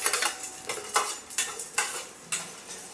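Repeated scraping and clinking of a utensil stirring ingredients dry-roasting in a pan for eggplant gravy, irregular strokes close by with a faint background sizzle.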